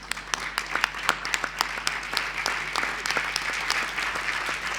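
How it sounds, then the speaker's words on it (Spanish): An audience applauding at a Latin American public television gathering, steady clapping with sharp individual claps standing out, moderately distant, with no talk over it. "Es el aplauso para la chica."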